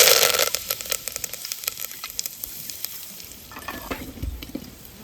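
Curry leaves and cumin seeds dropped into hot oil burst into a loud, crackling sizzle up close, spitting hard at first and then settling into a steady fry with faint stirring clatter.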